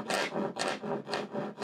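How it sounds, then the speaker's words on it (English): A wooden workpiece for a rebated tray, clamped in a vise, is shaped with a rasp. About four rhythmic rasping strokes sound close and steady, carrying a rough buzzing vibration, with no talking. "That's why it was making that large vibration sound."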